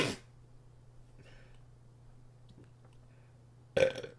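A man lets out two burps, one at the very start and a louder, throatier one near the end, with a low electrical hum and quiet room noise in between.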